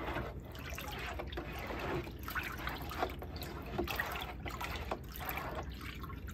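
Hands swish and slosh through lukewarm wool dye water in a sink, giving a faint, continuous trickling and splashing with soft irregular surges and no talking.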